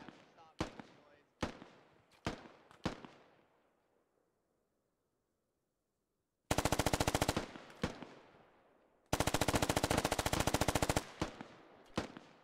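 Suppressing gunfire in the video game Squad: several sharp single shots, then two long rapid automatic bursts with more shots in between, loud and close.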